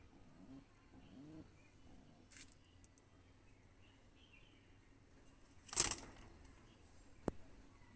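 Andhra pigeons from a home loft give a couple of soft, low coos early on, followed by quiet handling bumps and a brief loud rustle, all fairly faint.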